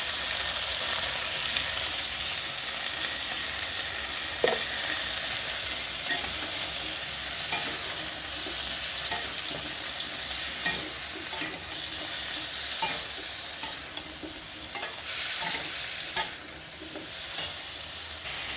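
Neem leaves frying with turmeric in a little oil, a continuous loud hissing sizzle with occasional stirring clinks and scrapes, no voices.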